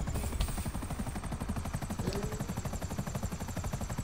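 Helicopter in GTA 5 with a steady, rapid rotor chop throbbing loud and close for the full length, alone without talk.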